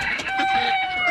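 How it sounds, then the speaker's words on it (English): A backyard hen clucks near a coop and run shared with ducks. Several quick, bright clucking calls follow one another closely and sound near and fairly loud. "That's my girl, my little chicken."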